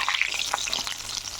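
Banana flower (mocha) chops fry in hot oil, a soft close sizzle with light crackles and pops over a short stretch, no voices.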